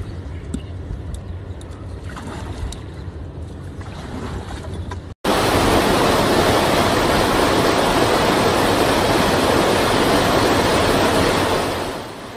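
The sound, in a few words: heavy rain and flood water rushing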